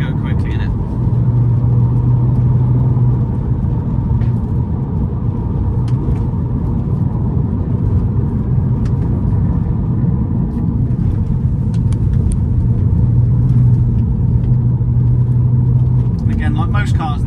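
A VW Golf R32 drives through bends on the road, its engine giving a low, steady rumble with a mild rise in drone at the start and again near the end, while a person talks over it throughout.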